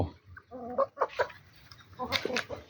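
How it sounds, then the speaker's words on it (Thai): Several short clucking calls from chickens on a rural farm, close by, with a brief burst of livelier squawking near the end; a faint voice is also present. "เห็นไหมครับไก่"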